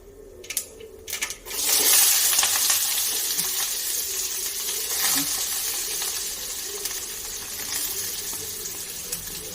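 Onions and spices sizzle and crackle continuously in oil after a couple of sharp clinks at the start, a steady hiss of frying with no voices.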